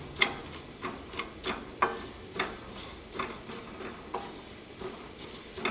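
Fennel seeds and spices dry roasting in a pan for beef curry give a soft hiss punctuated by repeated light scraping stirs and clicks about every half second, fairly quiet and without talk.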